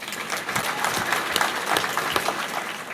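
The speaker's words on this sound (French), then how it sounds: "Applaudissez-vous." A crowd at a French town's New Year greetings ceremony applauds steadily, a continuous, fairly close wash of many hands clapping with no break.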